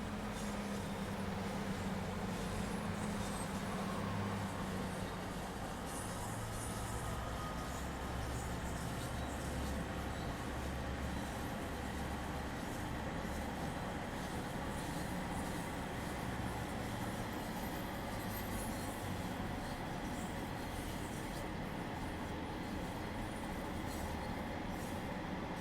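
A simulated train in Train Sim World 3 on the Glossop Line runs over a viaduct, a continuous low rumble of wheels and carriages with faint clacks, steady and alone.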